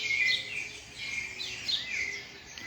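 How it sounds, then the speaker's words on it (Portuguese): Several small birds chirp and tweet outdoors in bright, overlapping bursts, moderately near and clear, with soft ambient hiss underneath and no talking. "Se vocês estão ouvindo o som dos passarinhos"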